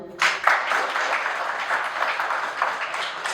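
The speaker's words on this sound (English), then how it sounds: "One last round of applause for our panelists." A room full of people claps for a panel, a dense, sustained round of applause that starts abruptly and holds steady.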